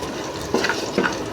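Flattened poha is stirred with turmeric in hot oil in a pan, giving a soft continuous frying hiss broken by two brief scraping stirs.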